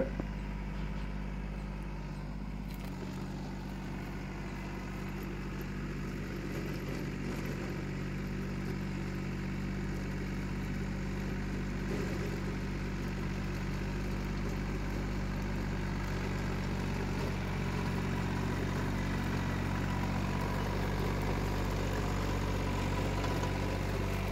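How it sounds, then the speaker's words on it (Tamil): A Swaraj Target 630 mini tractor with a Yanmar engine idles steadily and close by, a low continuous chugging hum that holds even for the whole stretch, alone without voices. "இந்த டிராக்டரில் பயன்படுத்தப்பட்ட இன்ஜின் பொறுத்தளவுக்கு ஜாப்பனீஸ் கண்ட்ரி சேர்ந்த யான்மார்க் கம்பெனி தயாரிப்பு இன்ஜின் தான் இதில் பயன்படுத்திகிட்டு இருக்கிறாங்க."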